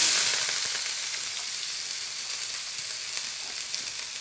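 Chopped onions and green chili sauté in oil in a pan with a continuous bright sizzle that slowly eases in loudness, and faint stirring crackles run through it.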